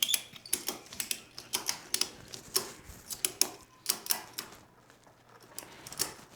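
A mechanical lift jack is cranked under a Honda Grom or Monkey motorcycle, giving a run of close, quick ratcheting clicks in uneven bursts with short pauses between strokes.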